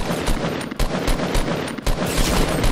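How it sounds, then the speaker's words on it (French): Loud, dense gunfire in a video game, several sharp close shots in an uneven rapid series, a sniper among them, with no voices. "Et je me suis fait sniper"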